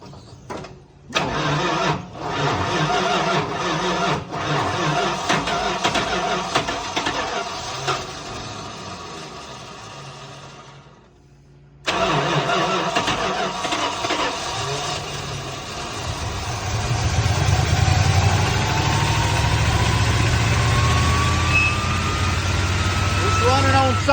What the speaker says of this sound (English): turn the motor over and see if the pump is going to pump some fuel